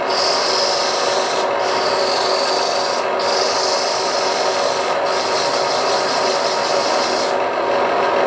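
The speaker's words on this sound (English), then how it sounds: "since this is going to be seen from the outside, might as well sand it while I can" Steady close rasping as sandpaper is held against the outside of a hollowed wooden vessel spinning on a lathe, a continuous loud rubbing hiss with brief dips where the pressure lifts, no talking.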